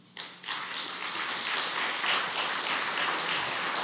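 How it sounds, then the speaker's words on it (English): An audience at an awards ceremony breaks into applause that swells quickly and holds as a dense, steady wash of clapping from a sizeable crowd. "Please give them another round of applause."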